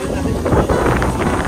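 Strong wind buffets the microphone on open water during stand-up paddleboarding, a constant loud rushing roar for the whole moment.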